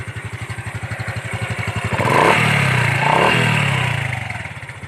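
A stock 2019 Honda Wave 110 motorcycle with its original exhaust idles with a pulsing beat close by, then its engine is revved up twice in rising and falling swells before dropping back to idle.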